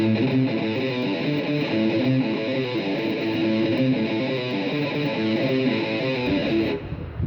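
A heavily distorted electric guitar chugs through a steady, driving riff, loud and continuous, cutting off abruptly near the end.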